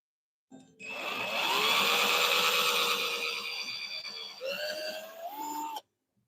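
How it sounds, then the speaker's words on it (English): A cordless power drill boring a small pilot hole into wood, a single whining burst of several seconds that rises in pitch as the motor spins up, shifts speed near the end, then stops abruptly; close and clear with no talk. "Drill a little pilot hole"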